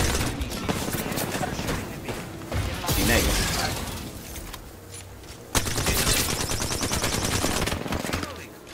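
Gunfire in a ranked video game match crackles in rapid bursts and volleys, with bright sharp shots scattered throughout, while players talk over the action.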